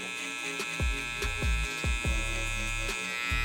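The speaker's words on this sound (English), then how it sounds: "you should see a small faint line as a guideline to show us to how high to come up with our electric shaver" An electric hair clipper buzzes close and steadily while cutting hair for a mid fade, with repeated low thumps and strokes as it sweeps up through the hair.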